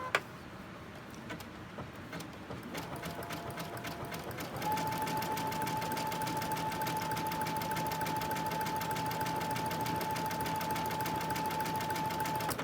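A sewing machine zigzag-stitches a pin tucked pinwheel quilt block, its rapid needle chatter starting softly and then settling into a steady, louder whirring run with a sustained motor whine.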